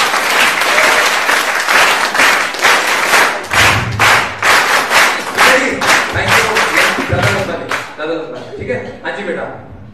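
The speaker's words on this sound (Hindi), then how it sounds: "ताली बजाओ जोर से।" An audience at a student skills talk claps loudly on request, dense applause with heavy thuds that fades into scattered claps toward the end.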